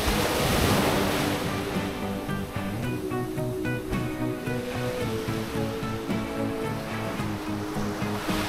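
Ocean waves break continuously at Koka Beach in Sikka, Flores, a loud, steady wash of surf with some wind and tonal music running underneath.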